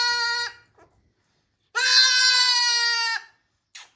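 A baby goat kid bleats and cries loudly and close, a short wavering bleat, then a long strained wail, then a brief clipped call, with silence between.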